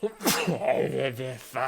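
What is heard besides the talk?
sneeze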